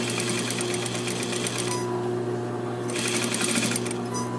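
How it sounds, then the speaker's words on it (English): A sewing machine stitches a suit collar at the lapel, running steadily and fairly loud with a brief change in pitch midway, no talk over it. "And stitch down as far as you can."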